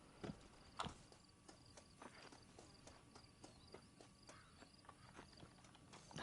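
Horse hooves clip-clop at a steady walking pace in the Western video game Red Dead Redemption: light, evenly spaced knocks at moderate distance, fairly faint over a low ambient bed, with a couple of sharper knocks near the start.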